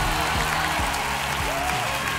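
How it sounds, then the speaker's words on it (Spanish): Applause from a studio audience at a televised children's singing competition semifinal, greeting a young finalist; dense, steady clapping fills the whole moment with a faint crowd murmur. "¡Aplauso grande para nuestra finalista!"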